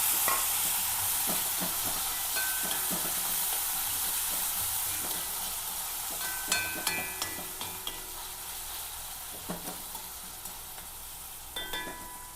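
Chopped onion, garlic, green chilli and a small piece of ginger sizzle steadily in a hot pan, with a constant frying hiss and intermittent clicks and scrapes of stirring that grow more frequent toward the end.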